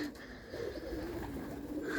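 Pigeons coo softly at a pigeon show at the market in Skierniewice, a faint, low, throaty cooing that runs through the short moment with no one speaking.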